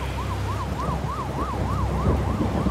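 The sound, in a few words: ambulance siren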